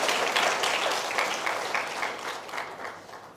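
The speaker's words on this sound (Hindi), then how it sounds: "तालियां बजा करके प्रभु का धन्यवाद कीजिए।" A church congregation claps in thanks to God, and the clapping is fairly rhythmic and moderately close. It starts fuller and gradually fades over a few seconds.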